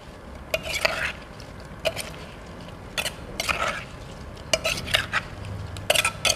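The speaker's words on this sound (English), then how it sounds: "Just use a spatula to mix." A spatula mixes chunks of fruit for a vegan fruit salad in a bowl, giving irregular close wet squelches and clinks in short bursts with quiet gaps between.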